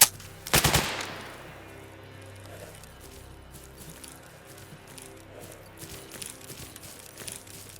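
A loud gunshot burst from STALKER Anomaly cracks close by near the start, then fades into a quieter ambient game backdrop with faint shuffling.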